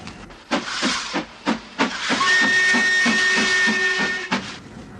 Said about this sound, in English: A combination of soot, smoke, and steam is, in my opinion, one of the disadvantages of travelling by locomotive.